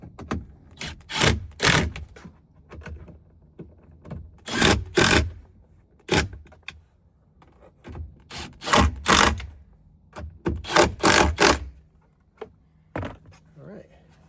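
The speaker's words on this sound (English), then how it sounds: "now we're just gonna tighten them down, 10 millimeter as well" Tightening 10 mm nuts on a tow mirror mount on a Ford F150: close, rasping bursts repeat in uneven groups, with quiet gaps between them.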